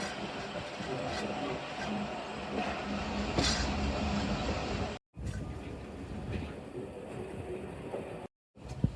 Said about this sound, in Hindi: और ये आ चुका है खानेवाल जंक्शन स्टेशन, जिसकी स्पीड जो है वो 10 किलोमीटर पर आवर है।